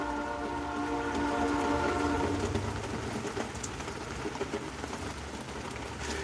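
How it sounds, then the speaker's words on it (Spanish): Steady rain falls after three days of continuous downpour, a dense even hiss spread across the whole stretch, with a tonal hum fading out in the first couple of seconds and no talking. "Hace 3 días está lloviendo aquí."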